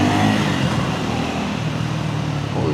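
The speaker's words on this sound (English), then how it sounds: "Let's take it out on the open road. Then we will see how powerful this bike is." A Triumph Scrambler 400X motorcycle pulls away on an open road, its engine droning steadily under strong wind rush throughout, without talk.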